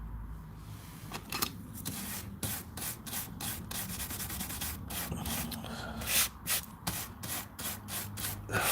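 A brush scrubbing a Commodore Amiga circuit board, rapid scratchy back-and-forth strokes in an uneven rhythm, close and continuous, with no talking.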